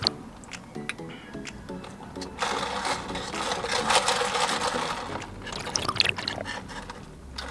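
Coffee chain drink being stirred and mixed in a cup, a swirling liquid rush with ice-like clinks and rattles, close and moderately loud, with scattered taps before and after.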